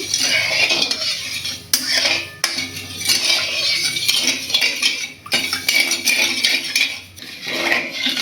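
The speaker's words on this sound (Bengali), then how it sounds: "এবার একটু নাড়িয়ে নিচ্ছি" Sugar and water stirred in a pan for a raw mango morobba, with a metal spoon continuously scraping and rattling against the pan bottom, close, loud and steady with brief clanks.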